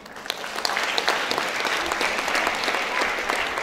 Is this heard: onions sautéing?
no